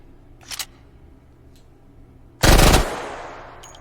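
A gun fires in the VR game Hot Dogs, Horseshoes & Hand Grenades. A faint short burst comes first, then one loud, sharp automatic burst around the middle that leaves a decaying echo tail.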